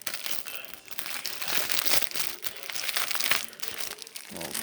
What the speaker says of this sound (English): So I gotta use the knife to cut this plastic open.